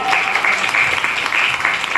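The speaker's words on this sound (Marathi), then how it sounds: "यांच्यासाठी एकदा टाळ्या वाज" Crowd at a devotional gathering clapping loudly for the young people, a dense, steady burst of many hands close by with brief voices mixed in.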